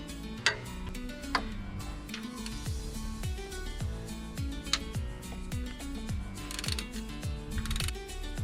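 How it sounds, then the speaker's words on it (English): A ratchet with a 10mm socket turns the oil pump bolt on a Td5 engine in a Land Rover Discovery II, giving repeated close metallic clicking bursts with sharp knocks throughout. "Now we're going to check if there is any trace of thread lock with a"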